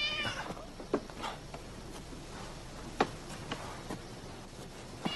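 A cat meows a few times at a short distance, with separate cries spread over several seconds against a quiet room background. It is heard in a domestic scene from a drama series.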